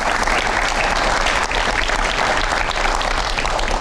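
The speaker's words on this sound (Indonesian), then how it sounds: "Kita kasih tepuk tangan." Studio audience on an Indonesian TV talk show clapping, a loud, dense and continuous roar of applause that holds steady for nearly four seconds.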